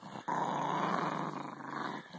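A dog growls in one long, continuous, close rumble that begins abruptly and holds steady for about two seconds.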